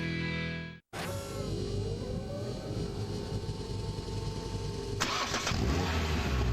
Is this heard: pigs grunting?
no